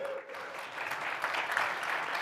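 Spontaneous audience clapping at a spinal cord injury symposium, a moderate, fairly quiet round of applause that builds slightly and stays steady, with a brief tone near the start.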